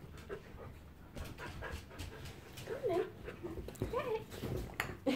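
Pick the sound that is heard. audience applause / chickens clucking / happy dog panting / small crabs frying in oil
happy dog panting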